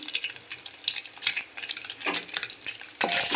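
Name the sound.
stirring egg bhurji mixture in pan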